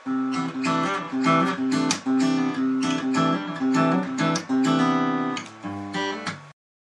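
A guitar plays a repeating, rhythmic riff with percussive slapped hits between the notes, clear and close, ending abruptly.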